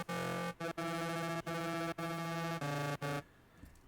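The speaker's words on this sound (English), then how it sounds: "I don't know why I called it simple bass, it should be scream bass, but it sounds like this." Harsh, distorted scream-style synth bass from an electronic remix drop, played alone in loud sustained bursts chopped by short gaps, ending abruptly into quiet.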